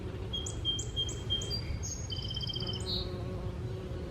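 Bees hum around dragonhead balm flowers in a sunny cottage garden border, a low buzzing beneath a run of bright, repeated bird chirps close by.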